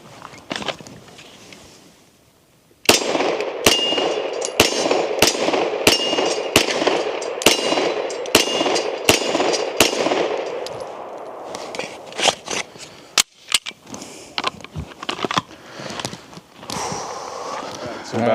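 Sharp handgun shots ring out at a steady, rapid cadence during a shooting drill, with loud cracks and a metallic ring as the rounds hit steel targets. A second, sparser string follows, and a person talks between the strings.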